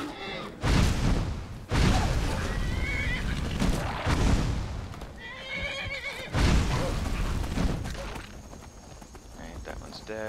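Several loud horse whinnies ring out in bursts in Skyrim amid heavy thuds and hoof clatter during a fight, with a voice talking over the noise.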